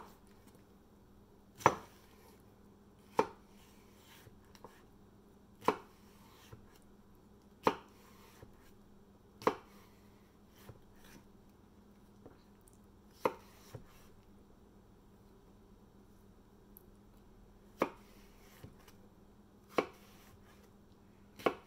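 A knife chops cucumbers on the diagonal against a cutting board, sharp isolated knocks landing every second or two with uneven spacing, close and clear over a quiet room with no talking.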